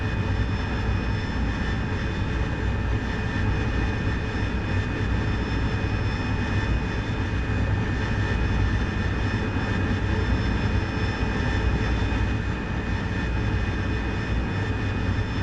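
Steady, loud jet engine drone from a cockpit in DCS World flight simulator during a night ship-strike mission, a continuous roar with an even hum running unbroken from start to finish.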